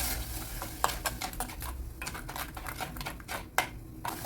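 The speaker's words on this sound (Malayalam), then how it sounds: "അപ്പോൾ ഈ എണ്ണയിലിട്ട് നന്നായിട്ട് തന്നെ വഴറ്റിയെടുക്കാം" Fish curry masala being sautéed in oil with salt, spoon stirring and scraping against the pan in irregular clicks and scrapes over a soft background hiss; close and fairly quiet, no talking.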